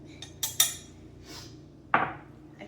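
Flour, baking powder, cinnamon and sugar are stirred together in a bowl for muffins, with a few sharp utensil clinks and knocks against the bowl amid quiet pauses.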